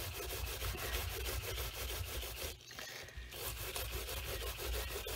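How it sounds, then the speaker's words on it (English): A Scotch-Brite pad scrubs over a leaded glass solar lantern in continuous rhythmic rubbing strokes, close and fairly loud, with one brief pause midway and no voices. "we'll continue to clean this up with our Scotch-Brite."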